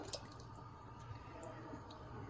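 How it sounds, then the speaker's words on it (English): A whole bottle of liquid is poured into kale soup, a faint, close trickle with scattered small drips and splashes. "we're just gonna pour that in there"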